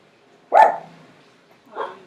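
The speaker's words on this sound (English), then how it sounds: "Louis, stop barking out the window." A dog named Louis barks out a window indoors. One sharp, loud bark is followed a beat later by a softer second yelp, and the room is otherwise quiet.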